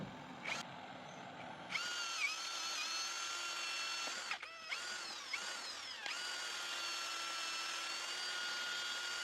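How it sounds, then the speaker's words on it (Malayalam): Power drill boring speaker holes through a board inside a vehicle, several bursts of high whining drilling with short pauses between them, close and steady, no talk. "സ്പീക്കറിൻ്റെ ഡയമീറ്റർ വരച്ചെടുത്തിട്ട് അതിൻ്റെ അകത്ത് ഡ്രില്ല് ചെയ്തെടുക്കുന്നുണ്ട്"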